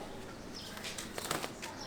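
A pigeon being caught by hand beats its wings in a few short, soft flurries, close by, with faint rustling between bursts.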